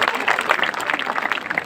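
A crowd at a Hindi poetry gathering (kavi sammelan) claps steadily, a dense patter of applause throughout.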